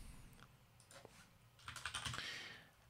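Typing on a computer keyboard while entering a menu name in a website dashboard, a few scattered key presses that quicken into a brisk, close burst of clicks near the end, quiet and with no talking.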